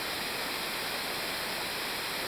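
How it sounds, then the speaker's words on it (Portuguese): Waterfall pouring down a series of stone steps, a dense, steady roar of rushing water filling the whole clip without a break, close and loud, with no voices. "Essa cachoeira toda formada de degraus de pedra aqui embaixo."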